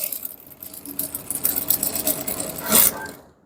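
A sewing machine stitches the panels of a man's shorts in a steady, continuous run, growing busier toward the end before stopping abruptly.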